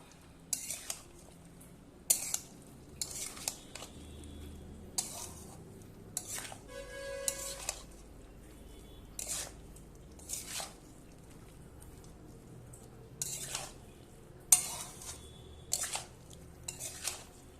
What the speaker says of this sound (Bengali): এবার আমি ভালোভাবে মেখে নেব।